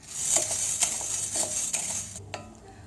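Urad dal is stirred while it roasts dry in an iron or stone pan, made as homemade baby food. A spoon scrapes and clinks against the pan in an uneven rhythm, with a faint sizzle underneath.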